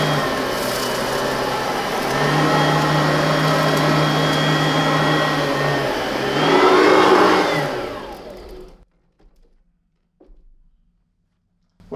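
An Oreck XL-21 upright vacuum cleaner runs with a loud, steady whine and motor hum as it picks up cereal and litter. The pitch shifts once, then the motor winds down and falls silent.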